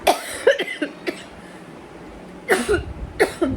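Several short, harsh coughs in separate bursts, close to the listener, with quiet pauses between them and no speech.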